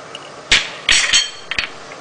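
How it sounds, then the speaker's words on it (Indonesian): Garlic and pepper pounded into a spice paste with a mortar and pestle, a few sharp knocking strikes with brief grinding scrapes between them, close and alone. "Langkah pertama, haluskan bumbu, bawang putih dan merica"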